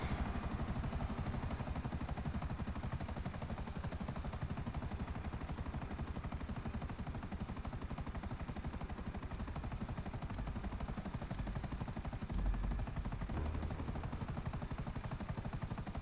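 A helicopter in the video game GTA 5 flies steadily, its rotor giving a rapid, even chopping beat under a constant whine. The sound is moderately loud and unbroken, with no speech.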